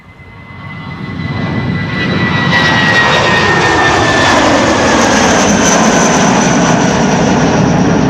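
A jet airliner departs on a windy day from Polderbaan runway 36L at Amsterdam Schiphol. Its roar swells quickly from a distant rumble into a loud, sustained, wide-band thunder with a faint whine, and no voices are heard.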